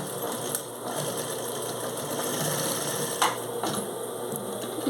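A sewing machine stitches a shoulder bag, giving a steady mechanical whir with faint rhythmic knocking and a few brief clicks, heard alone at low volume.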